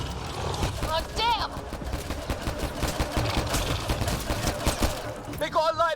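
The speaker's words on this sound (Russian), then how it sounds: "каждый раз кажется, что это звуки выстрелов" Gunfire in the sci-fi shooter Mass Effect: Andromeda, a rapid stream of sharp shots and bursts running throughout, with game character voices talking over it near the start and end.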